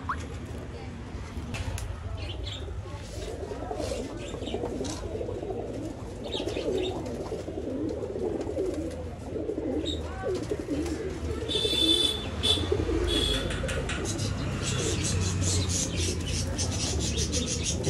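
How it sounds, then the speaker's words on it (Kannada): Old line pigeons offered for sale in Bangalore coo and rustle nearby, soft repeated calls over faint background noise, with a brief rise in activity toward the end. "ಅಕ್ಕಿ ನೋಡಿ ತುಂಬ ಒಳ್ಳೆ ಅಕ್ಕಿ. ಬಿಟ್ಟು ತೋರಿಸ್ತೀವಿ ನೋಡಿರಿ."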